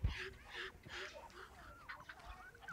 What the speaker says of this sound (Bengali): এই যে দেখেন এগুলো যেগুলো হাঁস দেখতেছেন এর নাম হচ্ছিল আমরা বলে থাকি চুনা হাঁস